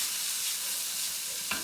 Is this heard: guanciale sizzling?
yes